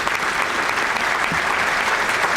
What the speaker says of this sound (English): Can we give them a round of applause and thank you as well?